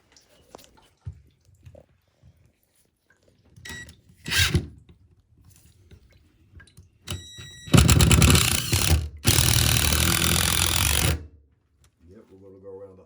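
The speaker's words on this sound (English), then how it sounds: "Jordan's going to go ahead and run some new 3-inch wood screws down through the holes" Power driver sinking a 3-inch wood screw through a toilet flange hole into the subfloor, a loud whirring burst lasting several seconds with a short pause mid-run, preceded by scattered clunks and handling noises.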